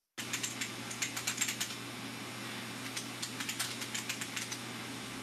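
Rapid, light keyboard typing in a 1998 film, a quick run of clicks followed by sparser taps over a steady low hum of the room.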